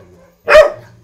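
A Donggyeongi, Korea's native tailless dog breed from Gyeongju, lets out one sharp, loud bark at close range against a quiet background.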